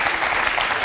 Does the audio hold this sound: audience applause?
yes